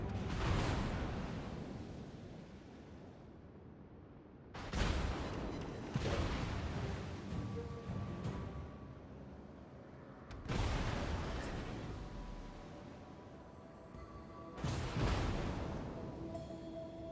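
Heavy battleship gunfire from the French battleship Bourgogne in a naval video game: about four loud booming salvos, each followed by a rolling decay, spaced several seconds apart.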